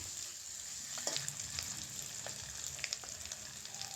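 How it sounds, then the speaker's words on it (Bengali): Potatoes fry with turmeric and salt, turned in the pan as they cook, giving a soft, fairly quiet hiss of oil with scattered small crackles and pops throughout. "দিয়ে আলুগুলো আবারও উল্টে পাল্টে ভালো করে ভাজছি"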